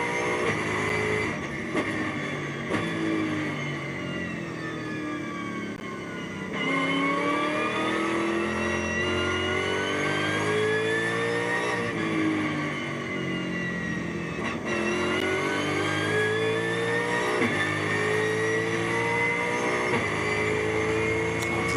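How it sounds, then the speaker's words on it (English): V8 engine of a GT4 race car lapping Spa in GT4 European Series qualifying, loud and close, rising through the gears in long climbing sweeps with brief drops at each shift and a burbling overrun off throttle. "Let's just listen into this lovely V8 engine for a second."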